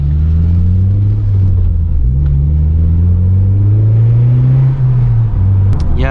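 Engine of a 9th gen Honda Civic Si during e-tuning, revving on throttle with loud, steady low harmonics rising and falling, slightly rough and uneven as throttle is applied.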